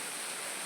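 A waterfall beside a foggy paved road, a steady hissing rush of falling water, even and unbroken throughout the brief moment.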